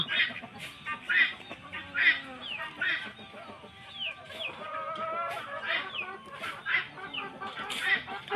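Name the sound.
chickens clucking on a farm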